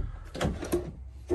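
A deep drawer in a 2021 Grand Design Imagine 2800BH travel trailer slides open and shut, giving a few short, close scraping and thumping strokes with quiet pauses between them.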